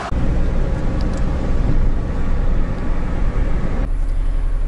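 Steady engine and tyre rumble of a car travelling along a coastal road in Turkey, from Kestel toward Mahmutlar near Alanya, loud and continuous, with a change in tone near the end.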